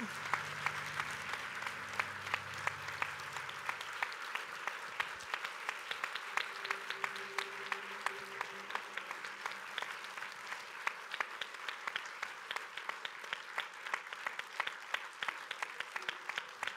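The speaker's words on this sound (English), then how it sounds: "Applaudissements, absolument." Sustained applause from the press at the Prometheus press conference in Paris, a steady patter of many hands clapping at moderate distance, with a low voice briefly under it at the start.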